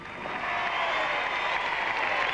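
Studio audience applause for Army captain Jim Fox, Olympic modern pentathlon gold medalist, at a 1981 Superstars sports competition in Blackpool: a smooth, steady wash of clapping from a crowd, moderately loud and unbroken.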